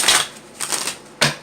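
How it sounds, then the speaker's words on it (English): Tarot cards are shuffled by hand in three short, crisp riffling bursts, close and fairly loud, with brief gaps between them. "Okay, last shuffle."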